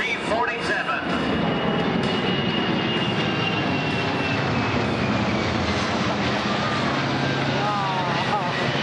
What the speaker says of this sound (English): Here they come from overhead, ladies and gentlemen, the C-17 and the C-47.